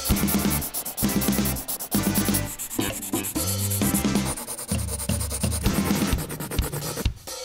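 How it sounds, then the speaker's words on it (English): Markers scratch and rub across paper in quick repeated strokes, close and steady, with no talking. "Use markers to color."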